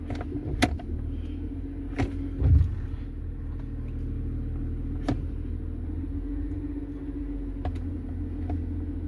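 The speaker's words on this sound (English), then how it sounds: "strong gear engagement" A Mercedes-Benz E320 idles with a steady low engine rumble as its transmission engages gear, marked by a soft low thump and a few short clicks and knocks spread across the idle.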